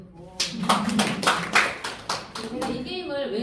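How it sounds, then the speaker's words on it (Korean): Audience at a talk claps in several sharp, uneven bursts, a scattered round of applause from a modest crowd, with voices murmuring between the claps. "박수."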